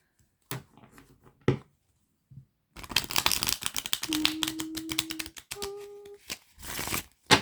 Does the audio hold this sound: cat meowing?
no